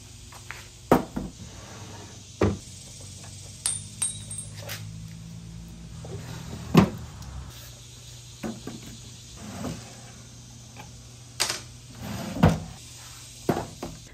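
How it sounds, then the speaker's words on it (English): Wooden drawers being pulled out of an old Bassett dresser, giving a series of scattered knocks, thumps and rattles with quiet gaps between them, close by and without talk. "I began by removing all of the old hardware and drawers."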